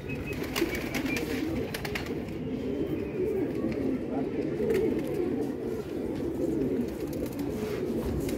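Pigeons, including Tulsi- and black-feathered fancy birds, cooing continuously in a loud, close flock, the low rolling coos layered over each other with no speech.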